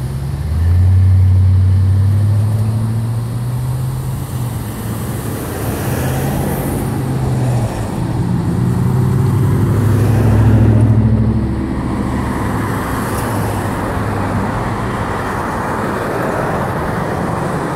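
Cars and buses on a roadway rumble past at close range, a steady low traffic drone with two louder swells as heavier vehicles go by, no voices.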